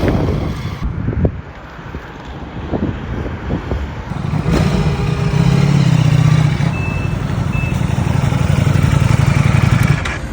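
A 2025 Ducati Panigale V4 motorcycle being ridden, its engine a steady low drone that swells louder midway and holds under constant rushing wind buffeting the microphone.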